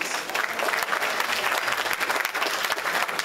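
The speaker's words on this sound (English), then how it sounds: "Can we give him a round of applause, please?" A conference audience gives steady, dense applause after a keynote talk, a brief continuous burst of many hands clapping at even loudness.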